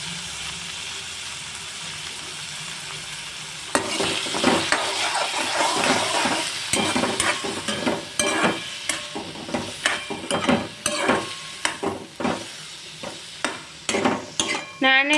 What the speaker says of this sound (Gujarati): હવે આપણે બધું હલાવી લઈશું।